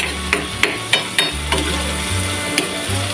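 Baguio beans and ground pork stir-frying in a pan: a steady, loud sizzle at close range, punctuated by a series of sharp metallic taps and scrapes from a spatula stirring at an irregular rhythm.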